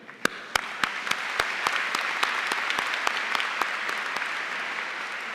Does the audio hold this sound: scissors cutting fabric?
no